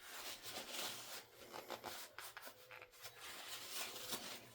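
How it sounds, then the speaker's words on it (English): A spatula is wiped clean during wedding cake decorating, giving a faint, continuous rubbing and scraping sound close by with uneven strokes. "wipe the spatula off here"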